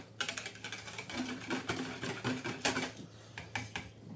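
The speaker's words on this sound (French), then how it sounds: "Donc je viens mettre mon lait à l'intérieur. Donc je mélange." A spoon stirring warm milk into yogurt in a bowl, producing rapid, irregular light clinks and scraping taps close up, steady throughout with no talking.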